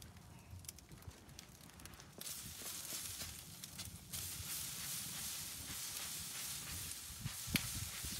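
A spray bottle spritzing apple whiskey onto baby back ribs in a Gateway drum smoker, a series of soft hissing sprays close by, with faint knocks in between.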